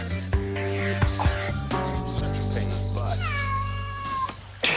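Several cats meow in a run of clear, tonal calls, some drawn-out and wailing, against a steady background hiss, with a short rattle near the end.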